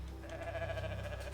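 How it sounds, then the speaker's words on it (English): Goat bleating in the video game Ghost of Tsushima, a soft, steady wavering bleat held alone over a low background hum, fairly quiet and close. "Oh, I gotta milk a goat."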